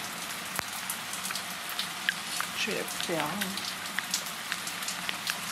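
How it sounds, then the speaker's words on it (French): Steady rain patters and hisses across the surface throughout, with someone speaking briefly over it at close range. "Une séquence de vlog sous la pluie."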